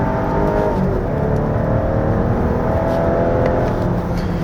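The turbocharged engine of a 2025 Volvo XC60 B6 AWD roars steadily under load on a winding road, a dense low drone with a faint whirring whine on top, heard from close inside the vehicle, upshifting near 6000 rpm.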